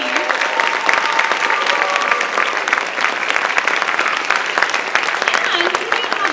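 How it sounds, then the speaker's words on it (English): A school concert audience at a percussion performance applauds steadily and loudly throughout, a dense continuous patter of many hands clapping, with some faint voices mixed in. "Keep that round of applause going"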